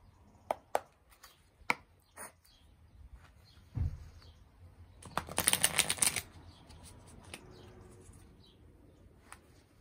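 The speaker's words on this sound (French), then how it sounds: "on va tout de suite tirer les cartes du Everyday Witch Tarot" Everyday Witch Tarot cards being drawn and shuffled by hand: scattered crisp flicks and taps, then a brief burst of rapid riffling, close and fairly quiet with no talk.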